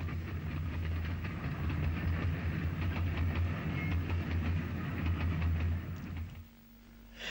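UG class steam locomotive No. 49 hauling an excursion train at speed past Knockmore Junction near Lisburn, a loud close roar with rhythmic clatter of wheels and carriages, fading slightly at the end.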